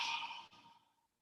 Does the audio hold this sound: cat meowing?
no